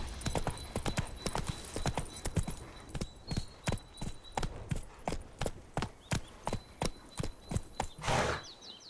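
Roach, a horse in The Witcher 3, gallops along in quick rhythmic hoofbeats, crisp and near. The pace is even until a final brief whoosh, and a voice speaks faintly at points.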